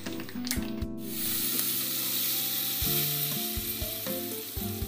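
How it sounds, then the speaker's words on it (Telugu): Asafoetida tempering sizzles in hot oil for a mixed vegetable pickle, a bright steady hiss with stirring scrapes and a few sharp knocks against the pan. "లాస్ట్లో ఇంగువ వేసి అది కొంచెం వేగగానే బంద్ చేయడమే, తాలింపు అయిపోయింది."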